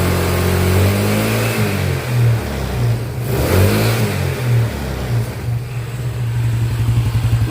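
A carbureted Yamaha Mio scooter engine revs loudly up close, rising and falling through several throttle blips over a continuous running drone.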